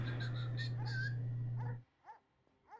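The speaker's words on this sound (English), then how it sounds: "Even my dog's mad at them." A dog whimpers and yips in high, thin, nasal cries, first over a steady low hum and then in a few separate whines once the background drops away, close and moderately loud.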